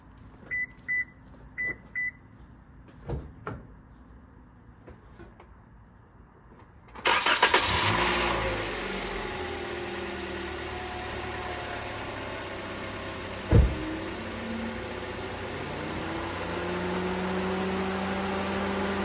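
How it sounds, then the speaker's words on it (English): An 11th-generation Toyota Corolla L starts up after a spark plug change: a few chime beeps, then the starter cranks and the engine catches, settling into a steady, even idle that runs on alone. "now I'm going to go ahead and start up the car and make sure it's idling great and there's no issues"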